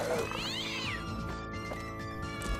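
A pet cat in the game Fallout New Vegas, shown fighting deathclaws, lets out a single drawn-out meow that rises then falls, close and clear over a steady low in-game hum.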